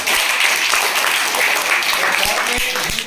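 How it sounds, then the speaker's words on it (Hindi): Students applaud at a school Teacher's Day celebration, a dense, steady wash of clapping filling the whole moment with faint voices mixed in beneath it. "सबसे पहले तो इनके लिए जोरदार तालियां"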